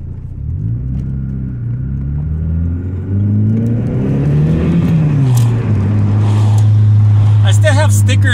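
A VW MK2 GTI engine revs hard under full acceleration, its loud drone climbing in pitch through the gears. A brief dip around the third second marks a shift before the engine pulls again to a high, sustained whine.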